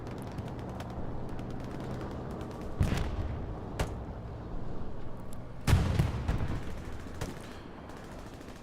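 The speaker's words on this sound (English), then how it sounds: "Strafing run goes over the garrison, but not in time to save it." Machine-gun strafing over a garrison during an Omaha Beach battle in Hell Let Loose, bursts of rapid gunfire layered with heavy distant booms and a rumbling battlefield background, two louder blasts standing out.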